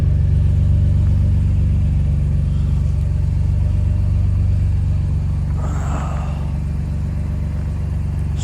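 A BMW E46 M3 idles steadily up close, a deep continuous rumble with a brief rise in the middle, no talking over it.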